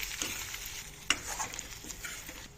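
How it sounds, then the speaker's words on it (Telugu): Potato pieces frying on a low flame in a pan, faint crackling sizzle with soft scraping stirs and one sharper clink of the spatula, no talking. "త్రీ ఫిఫ్టీ గ్రామ్స్ ఆలు ముక్కల్ని వేస్తున్నాను ఫ్లేమ్ సిమ్లో పెట్టి మూడు నిమిషాల వరకు ఫ్రై చేస్తాను దీన్ని"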